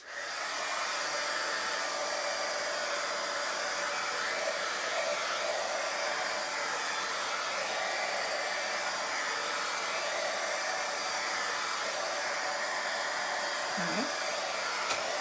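A hair dryer runs steadily and loudly near the microphone, drying a napkin-decoupaged vintage teapot, with a continuous airy roar that holds unbroken from start to finish and no talking.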